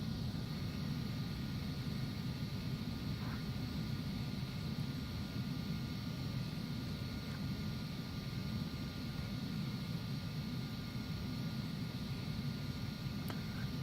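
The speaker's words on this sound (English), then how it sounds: "I'm going to get this jet up in the air and cruising as fast as she'll let us." Inside the cabin of a Phenom 300 business jet on takeoff, a steady broadband engine roar and airflow rush fill the air without letup, even and sustained throughout with no voices.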